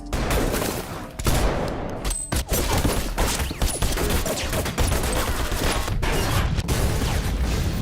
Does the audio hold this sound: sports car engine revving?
no